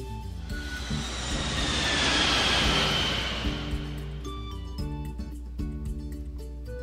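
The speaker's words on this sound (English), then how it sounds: "loud sounds, like the roar of an airplane in the sky" A loud jet airplane roars overhead, swelling to a peak and then fading, its rushing drone steady and broad with no voices.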